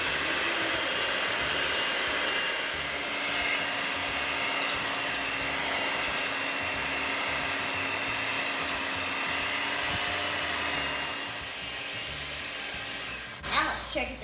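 Cream being whipped into homemade whipped cream with an electric mixer, a steady high whirring drone that runs almost unbroken, then stops near the end with a brief clatter.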